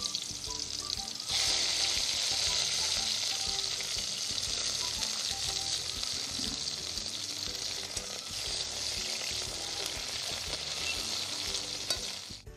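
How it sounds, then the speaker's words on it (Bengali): Sliced bitter gourd frying in hot white cooking oil in a wok for Bengali shukto, a steady loud sizzle with occasional stirring, running continuously without talk. "এবার উচ্ছেটা ভেজে নেব।"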